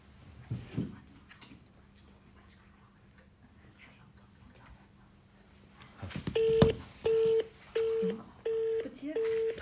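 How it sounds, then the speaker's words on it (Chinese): Telephone dialing tones sound while calling someone back, a run of evenly spaced beeps following some quiet background noise and faint voices. "稍等一下，给他拨回去。"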